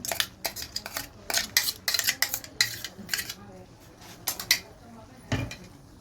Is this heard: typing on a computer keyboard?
no